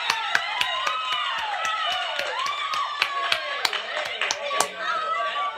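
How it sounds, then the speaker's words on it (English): During a performance, an audience claps as the performers take a bow. A run of sharp, irregular claps sits over lively talk and laughter, and there are voices throughout. "you can see the people like clapping"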